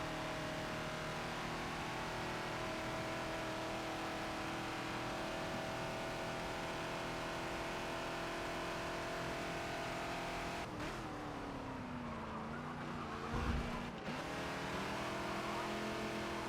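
A Ford Falcon XB engine in the Forza racing game drones steadily at high revs through a lap at Watkins Glen, then drops pitch with a shift before climbing again, loud and continuous.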